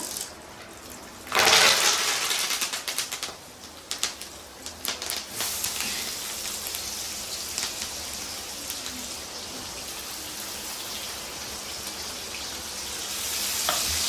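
Onions, green chillies and curry leaves fry in a pan for a dry salted fish curry, a loud burst of sizzling at first, then a steady crackling hiss with stirring clatter, no voices.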